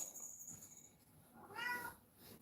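Pet cat meowing indoors, a couple of soft, faint mews with one longer rising call near the end, no talk.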